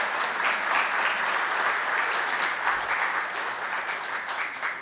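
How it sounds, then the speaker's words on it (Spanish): Steady applause from an audience at a national penal-enforcement conference in Mexico, welcoming a magistrate; dense, even clapping that holds for about five seconds with no talk over it. "Un aplauso, por favor."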